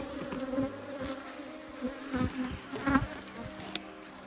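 Honey bees buzz steadily around an open hive during an inspection, a dense, close drone with individual bees whizzing past now and then.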